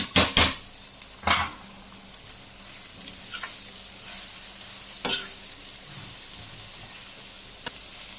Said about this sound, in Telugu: ఇట్లనే వేగనియ్యాలి. ఫ్రై చేస్తూ వేయించుకోవాలి.